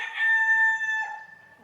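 A rooster crows once, a clear, bright, sustained call close by with a drawn-out tail, the only sound present.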